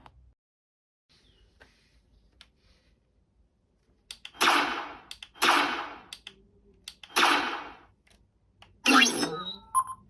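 Handmade F11D Star Wars blaster rifle prop firing electronic blaster effects: four loud, separate bursty shots spaced a couple of seconds apart after a near-silent start with faint clicks.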